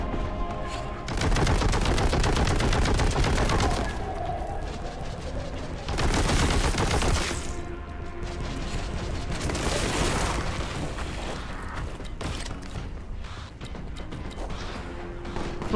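Heavy gunfire in Warhammer 40,000: Boltgun, with loud bursts of rapid shots and booms coming in waves, dense barrages separated by brief lulls.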